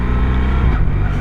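A BMW R1300RS motorcycle engine roars steadily close up under riding, with a brief dip and jerk in the tone as the quickshifter clicks from first into second gear.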